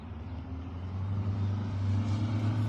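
Loud cars pass on a road, a low engine rumble swelling gradually as a vehicle draws nearer, a moderate steady roar with no talk over it.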